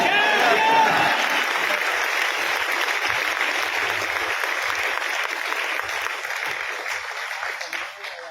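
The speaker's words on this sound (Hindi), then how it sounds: "बजाओ सब लोग ताली" Audience at an RCM gathering in Noida bursting into applause, a dense, steady wash of many hands clapping for about eight seconds before tapering slightly at the end.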